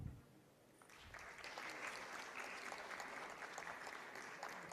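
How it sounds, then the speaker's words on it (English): A conference audience at a women's festival and awards event in Delhi breaks into applause as guests come to the stage, building quickly after a brief pause into sustained, moderately distant clapping. "and a huge round of applause."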